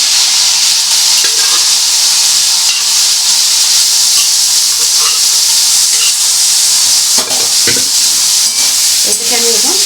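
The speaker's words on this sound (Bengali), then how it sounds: "এটাকে আমি এখন একটু ভালো করে ভাজবো। বন্ধুরা দেখো, আলুটা ছেড়ে দিয়েছি" Half-boiled potatoes frying in a pan for a Bengali-style curry: a loud, steady, close sizzling hiss that runs throughout, with occasional faint stirring scrapes.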